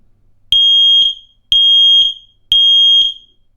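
X-Sense SX01-WR interconnected smoke alarm sounding in button test mode: three loud, piercing high-pitched beeps repeating in a steady rhythm, each about half a second long, close to the microphone with no talk.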